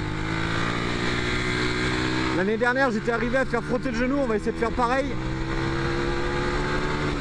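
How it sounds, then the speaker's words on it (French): A small 125cc motorcycle runs on a race circuit with a steady engine drone throughout, and a voice talks over it in the middle. "Il y a largement ce qu'il faut en termes de puissance sur cette petite moto 125."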